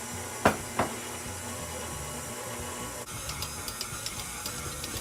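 A stand mixer kneads cinnamon roll dough, its steady motor whir running throughout, with a couple of sharp knocks early on and lighter repeated ticks of a spatula scraping the bowl sides later.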